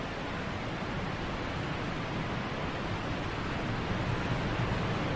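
A waterfall in the video game Osiris: New Dawn roars as a steady, broad rushing hiss, constant and full without pauses or voices.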